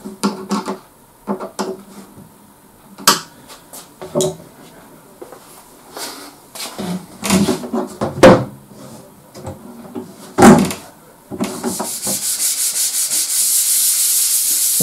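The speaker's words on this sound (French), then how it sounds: "On passe ensuite au ponçage fin de l'ensemble avant peinture." Fine sanding of a handmade wooden bench ahead of painting, with intermittent scraping rubs and short bursts of abrasive strokes, ending in a steady, louder continuous sanding hiss close by.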